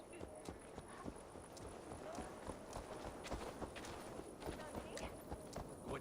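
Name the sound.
horse hooves clip-clopping in video game Assassin's Creed Valhalla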